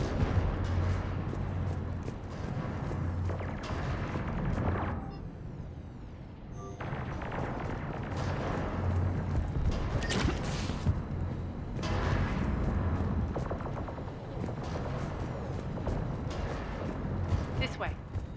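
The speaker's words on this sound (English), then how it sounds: "Those cannons have to be stopped." Heavy cannon fire in the video game Mass Effect 3, repeated deep booms and rumbling blasts under continuous combat noise and game music, with voices talking over the action.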